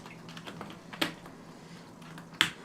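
Arrow keycaps are pressed onto a Wooting 80HE keyboard during a build, giving a series of light plastic clicks and taps, with two sharper snaps standing out, close and without talk.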